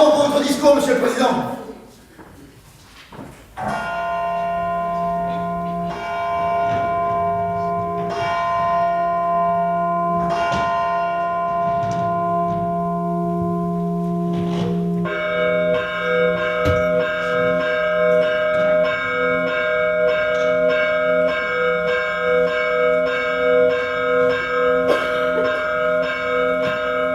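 Church bells ring out in a full, loud peal that begins a few seconds in, after a brief quieter stretch, and carries on steadily with overlapping sustained tones to the end.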